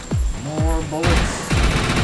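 Several gunshots in the Defiance shooter game, spaced sharp reports with ringing tails and a harsh crackling burst between them, loud and close.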